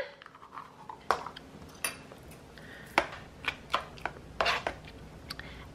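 A spoon mixes onion soup mix into cottage cheese in a small plastic container, giving close, irregular clinks and scrapes spaced about half a second apart, with no talking.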